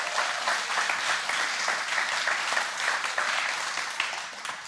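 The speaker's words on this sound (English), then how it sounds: "Would you give them a round of applause?" An audience at a weekend church gathering breaks into sustained applause, dense even clapping that holds steady and tapers slightly near the end.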